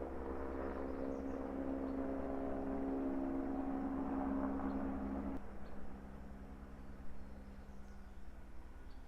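A low droning engine with a pulsing rotor-like hum hangs overhead, steady and moderately loud, then drops to a quieter rumble partway through.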